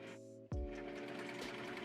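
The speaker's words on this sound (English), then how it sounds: "Overlocking that and getting rid of the excess material." An overlocker sewing machine trims and finishes the edge of dress fabric, starting with a sharp thunk and then running in a fast, steady whir, close and loud.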